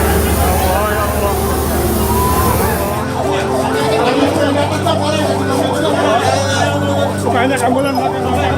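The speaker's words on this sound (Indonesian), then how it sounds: "Banyak ambulan" Ambulance sirens wail at the site of a collision between a KRL commuter train and the Argo Bromo train, a steady warbling tone under distressed voices and crowd noise.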